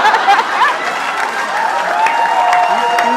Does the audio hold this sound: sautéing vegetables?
no